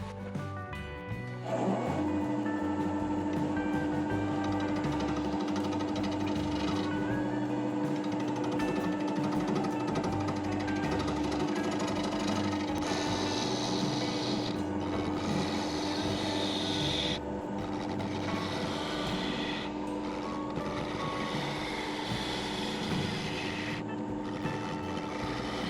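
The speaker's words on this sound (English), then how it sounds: "I'm going to start at 750 RPM, again with my 3/8 inch bowl gouge." Wood lathe spinning at 750 RPM while a 3/8 inch bowl gouge turns a natural-edge apple wood bowl, a continuous loud droning hum with a steady tonal whine and rough scraping cuts that run for the whole stretch.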